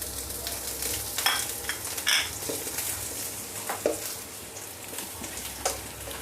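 Sliced onion sizzles steadily in a frying pan for a chopsuey, with a spoon scraping and stirring through it in a few soft strokes and small clinks against the pan, close by and with no talking.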